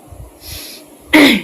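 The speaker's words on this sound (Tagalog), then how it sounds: "Nag-ubo na po ko ni." Soft breathing, then one sharp, loud cough bursts out close by.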